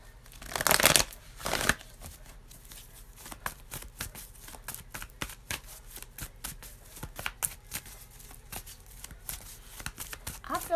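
Tarot cards are shuffled for a reading, opening with two loud riffling bursts, then a long run of softer, irregular card snaps and slides close by, with a voice speaking in the background.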